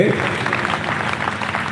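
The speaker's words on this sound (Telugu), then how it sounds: "ఇంకా చప్పట్లు కొడితే చాలా మంచిదండి" A church congregation claps together at a Sunday gathering, a dense burst of applause filling the room for a short stretch, with voices mixed in underneath.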